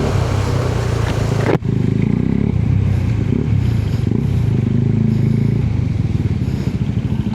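A heavy KTM motorcycle pushes through floodwater on a flooded highway, its engine a loud steady drone with splashing and clattering throughout, close up.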